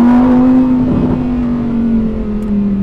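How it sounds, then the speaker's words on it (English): A Lamborghini Huracan Tecnica V10 engine hums steadily at close range, with a brief rough burst of overrun crackle near the middle and a low throbbing tone throughout. "There's all the crackle on the overrun."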